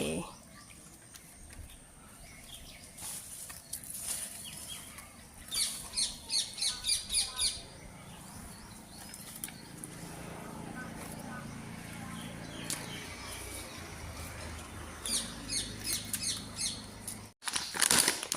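Parrots calling around a veranda, with bursts of harsh repeated squawks midway and again near the end, somewhat distant, alongside household sounds and someone talking.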